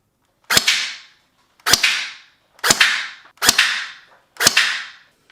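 A gel blaster fires five single shots at an even pace, each a sharp close crack followed by a short hissing decay, separated by silence.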